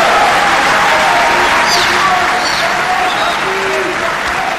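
Audience applauding the President of the Democratic Republic of Congo after his opening speech at Makutano 10, a loud, sustained roar of clapping from a large crowd with faint voices and cheers mixed in.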